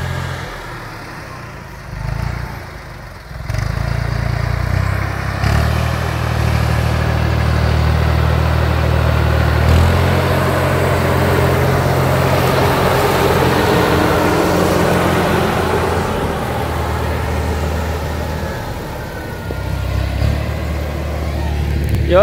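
A Valtra A74 tractor runs steadily while packing corn silage at a silo, its mid-range engine drone holding loud and close for the whole stretch, with slight shifts in load and no voices.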